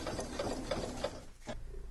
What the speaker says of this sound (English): I'm going to go take this over to the machine and I'm going to stitch on the lines